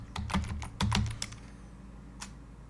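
Close, brisk keystrokes on a computer keyboard enter a gpupdate /force command: two dense clusters of rapid clicks, then a few scattered taps and a final single key press, with no talking.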